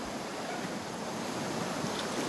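A river flows steadily outdoors at a riverside on a fishing trip, giving a constant broadband wash of water noise with some wind, no voices present.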